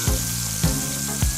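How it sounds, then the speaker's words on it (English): Food sizzles in a frying pan with pesto and salt, a steady hiss broken by three evenly spaced low thumps of stirring or tossing, close and loud, with no talk. "That sizzle sound."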